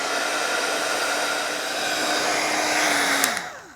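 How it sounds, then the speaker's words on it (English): A handheld heat tool blows a steady, loud whirring rush of hot air as it melts embossing powder on a card background, then winds down with a falling pitch as it is switched off. "I'm going to keep my heat tool moving because I don't want to remelt that embossing powder"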